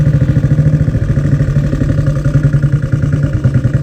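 A 1920s hand-change motorcycle engine runs close and loud, with a steady, rapid, clattering putter that holds its pace throughout.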